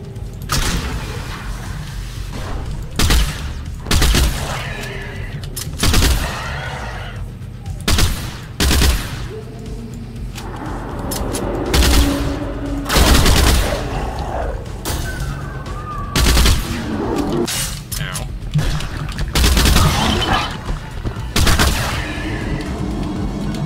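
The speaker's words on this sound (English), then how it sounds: "it looks like these rounds have delayed explosives" Video game gunfire from rounds with delayed explosives: repeated loud bursts of shots and booms in irregular clusters over a dense battle din, continuing throughout with no pause.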